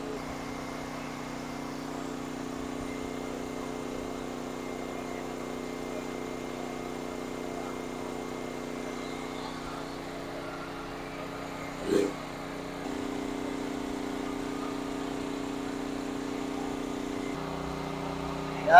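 A 5-ton air conditioner compressor on a 50 amp soft start runs with a steady mechanical hum and drone throughout, with a brief thump midway and a slight shift in pitch as the running note changes.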